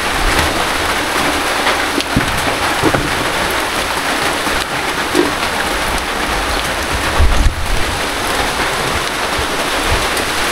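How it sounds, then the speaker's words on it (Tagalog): Heavy rain pours down steadily at night, a loud, dense hiss of drops on surfaces with a few low thumps and rumbles, continuous and close, with no voices. "di tayo makalipat guys, gawa nung ulan"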